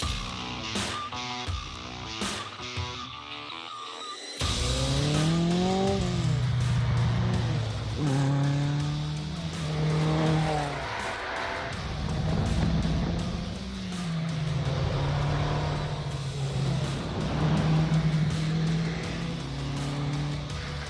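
The first Škoda RS, an old rally car, revs and roars through repeated gear changes, rising and falling in pitch as it drives close by, loud and continuous.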